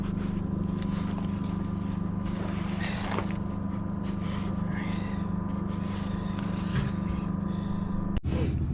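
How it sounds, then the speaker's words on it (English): Air compressor running steadily nearby with a constant humming drone as it builds pressure, alongside a sharp click near the end. "now while we wait for the compressor to build up"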